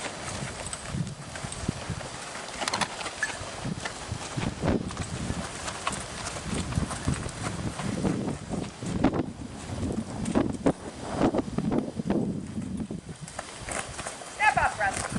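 Morgan horses walking while being led through a pen with mini zebu cattle, soft scattered hoof clops mixed with wind buffeting the microphone and someone talking over them.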